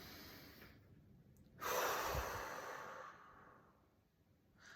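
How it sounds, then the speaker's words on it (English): One slow, deep breath close to the mic, taken during a cupping session after top surgery: a soft airy inhale swells, then fades into a long, gentle exhale over quiet room tone. "You can even do some deep breaths here, get that diaphragm to move, get the ribs to open up."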